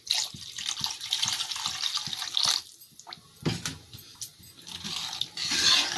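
Water rinsed from a bowl that held coriander leaves is poured into a cooking pan, a close splashing pour in uneven bursts with short gaps and small drips between.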